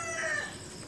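A short burst of chicken sounds from a small backyard flock, clucking and crowing close by with no talk.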